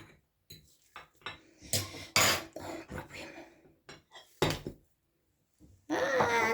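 Fork scraping and lifting a steamed omelet in a greased pan, giving a series of short metallic clinks and scrapes of cutlery on cookware, close and fairly quiet, with a brief voice near the end.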